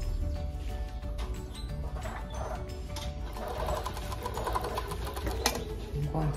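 A sewing machine stitches the side seam of a blouse with a steady mechanical whir close by, while a person talks over it part of the time.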